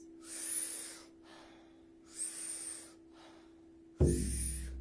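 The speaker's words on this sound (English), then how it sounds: "Powerful inhale, soft exhale. It sounds like this." Yoga breathing exercise: three forceful, rushing breaths separated by short quiet pauses, each a sharp powerful inhale sliding into a soft exhale, close and fairly quiet, with a low thump at the end.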